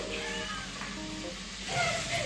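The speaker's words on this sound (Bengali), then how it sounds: "রান্না হচ্ছে আজকে আমাদের মটনের ঘি দিয়ে" Food sizzling in hot ghee in a pan while cooking a soya paneer biryani, a steady close crackle running under a voice talking.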